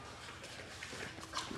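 A dog in a film scene gives a faint, brief whimper, a few soft high whines under quiet background ambience.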